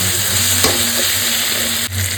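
Red chili paste fries in a pan for a dried fish curry, giving a steady, close sizzle with a soft stirring scrape partway through and a brief bump near the end.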